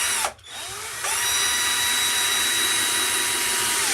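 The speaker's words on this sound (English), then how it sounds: "Hand drill and a screwdriver." A power hand drill spins up with a brief dip, then runs at a steady high whine into wood, loud and close without a break.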